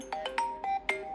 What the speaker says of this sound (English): I do believe that they've added also some new ringtones